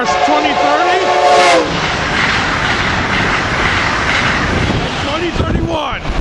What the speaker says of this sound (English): Here we have an Acela coming south.